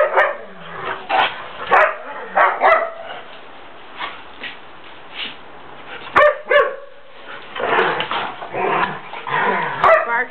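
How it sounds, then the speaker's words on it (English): A dog barks in short bursts, with yips and whimpers between them, close by and loud. "Barks if she doesn't want to play"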